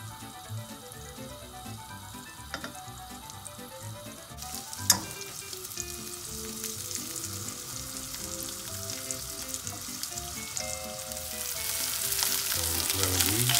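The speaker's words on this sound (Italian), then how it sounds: "Mettiamo i nostri filetti di gallinella e la mettiamo dalla parte della pelle e la facciamo rosolare." Gurnard fillets laid skin-side down sizzle steadily in a hot pan, the frying growing louder toward the end, with a sharp knock early on and background music throughout.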